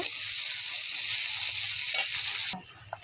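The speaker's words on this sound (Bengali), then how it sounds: "সুন্দর করে মশলাটা ভেজে নেব" Masala of garlic, onion and green chilli frying in a pan, a steady loud sizzle that drops off abruptly near the end, leaving faint crackles.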